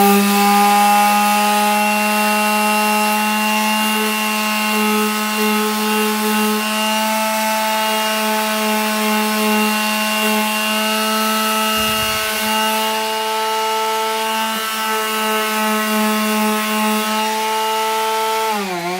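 A power tool drones steadily while a pumpkin cutout is sanded down to make it smaller, the loud constant whine holding for nearly twenty seconds with one brief dip near the middle.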